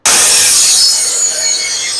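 Saw cutting through a rough oak board, one loud, close, continuous rasping stroke that fades slightly toward the end.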